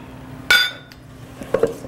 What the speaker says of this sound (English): Here come the walnuts.